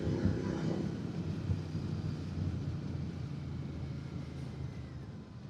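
Royal Enfield-style Interceptor motorcycle cruising a highway at night near Dharapuram, a steady low engine drone mixed with rushing wind noise, constant and fairly loud throughout.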